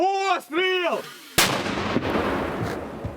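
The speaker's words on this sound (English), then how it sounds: "members of the Horiv battalion have ousted Russian soldiers from a dugout using a 120mm mortar" A 120mm mortar fires once at close range on a front line: a sudden, loud, sharp blast followed by a rumbling, noisy decay. A brief warbling whine precedes it.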